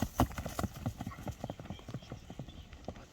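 A Karabair horse sets down a quick run of sharp, close hoof clip-clops in an uneven rhythm, some strikes louder than others, with faint background murmur.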